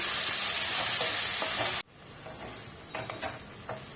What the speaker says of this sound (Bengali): চিংড়ি মাছটা আপনারা আলাদাও ভেজে নিতে পারেন, আমি আলুর সাথে একসাথে ভেজে নিচ্ছি।